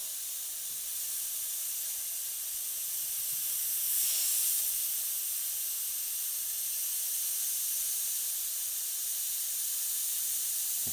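An airbrush sprays paint in a thin coat for lightning effects, giving a steady, soft airy hiss that runs continuously, swelling slightly around the middle.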